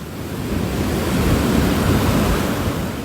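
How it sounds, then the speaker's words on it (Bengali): Huge storm waves driven by Cyclone Remal pound the Bangladesh coast. A loud, continuous roar of surf mixes with buffeting wind and never lets up, with no voices. "গর্জন তুলে হুঙ্কার দিচ্ছে বড় বড় ঢেউ, জানান দিচ্ছে রেমালের তেজ।"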